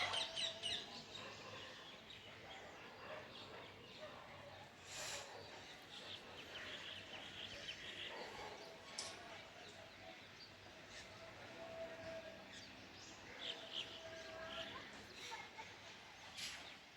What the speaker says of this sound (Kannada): ಪಕ್ಷಿಗಳ ಶಬ್ದ ಹೆಂಗೆ ಕೇಳಿಸುತ್ತೆ ಅಂದರೆ